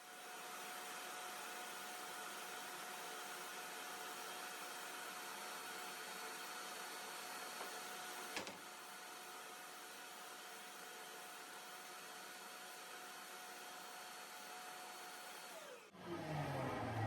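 A CNC router cuts through MDF in two passes, a steady loud whine with a constant tone running almost unbroken, then a brief pause and a sharp shift as the machine changes near the end.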